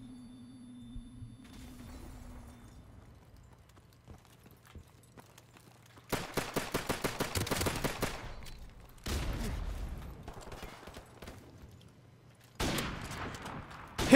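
Gunfire in the video game Call of Duty 4 Remastered bursts out in rapid automatic volleys, loud and close, separated by quieter stretches of faint background game sound.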